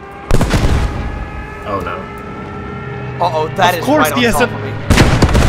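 Gunfire and artillery blasts from the World War II shooter game Post Scriptum boom out loudly in bursts at the start and end, with a player talking over the quieter middle.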